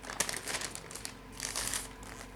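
A paper sewing pattern for a cowl neck spaghetti strap top is folded and handled, giving crisp, close crinkling and rustling that comes in bursts throughout.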